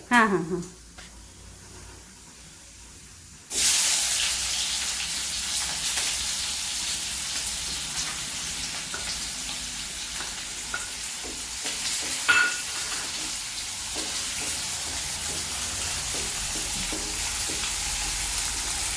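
Onion frying in a pan with cumin and mustard seeds, a sudden loud sizzle when it goes in, then a steady hiss with occasional stirring scrapes while someone talks over it.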